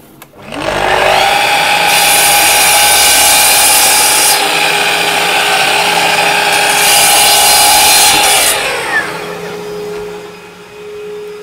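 A power saw in a workshop docks a piece of wood to length, with a loud, steady, high whine that holds for about eight seconds before winding down.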